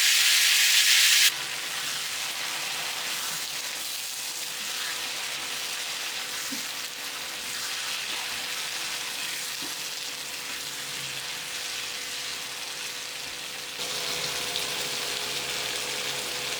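Vegetables fry in oil and ghee with dried chili and panch phoron spices, a steady close hissing sizzle throughout with occasional soft stirring clicks.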